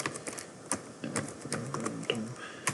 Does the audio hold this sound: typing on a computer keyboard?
yes